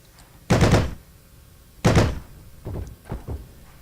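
Gunfire in the World War II shooter Heroes & Generals: two heavy, muffled booming shots a second or so apart, followed by a few quieter, softer thuds.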